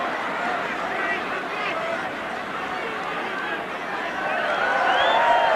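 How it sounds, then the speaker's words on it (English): A rugby league crowd at a 1988 Bradford versus Leeds match makes a broad, murmuring din with scattered voices. It swells louder toward the end. "There'll be a few woos from the crowd now."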